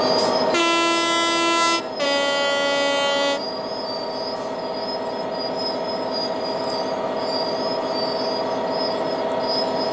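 Class 66 diesel locomotive in Train Sim World 3 pulling away under throttle, with a loud two-tone horn blast sounding twice over the first three seconds, then a steady engine drone and faint wheel squeal.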